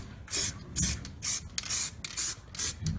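Matte black spray paint hisses from a nearly empty can over a weld on an HD diff pan, in about seven short bursts with brief pauses between them, close and fairly quiet.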